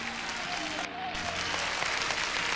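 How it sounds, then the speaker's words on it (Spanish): A crowd claps loudly and steadily at the 2007 Chilean Teletón telethon, applauding President Michelle Bachelet, dense applause filling the whole stretch without pause. "Un gran aplauso para la presidenta Michelle Bachelet"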